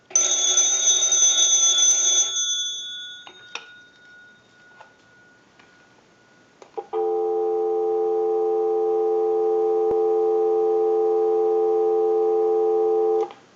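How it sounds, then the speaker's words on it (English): A steady telephone dial tone from a restored candlestick telephone hums continuously for several seconds after a brief high electronic beep and a few clicks. "we'll give you some dial tone"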